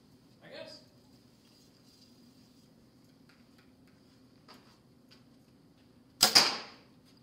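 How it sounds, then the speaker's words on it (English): An archery arrow is shot at a crow target as part of a trick shot. After a long quiet stretch with a few faint knocks, one sharp, loud, close impact lands near the end and rings out briefly. "I want to shoot it, and Kevin's standing in the way. I just want to fling arrows."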